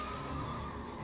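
A horse neighs in the Elden Ring video game, a steady whinny lasting about a second and heard on its own with no talk.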